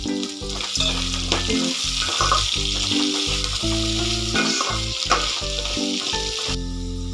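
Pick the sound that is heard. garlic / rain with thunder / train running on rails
garlic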